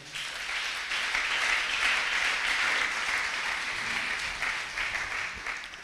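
A church congregation applauds in sustained, dense clapping that fills the room at steady loudness for several seconds, with no voices standing out.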